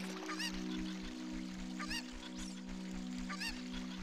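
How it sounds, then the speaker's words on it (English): A chicken in the video game Ocarina of Time gives three loud, squawking calls, evenly spaced over a steady electronic hum. "Come here, chicken."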